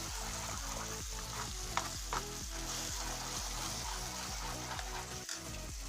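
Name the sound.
stirring pav bhaji vegetables in a pan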